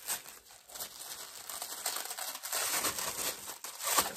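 A cardboard parcel box is opened and its packaging crinkles and tears in a string of soft, close rustles that rise toward the end, with no talk.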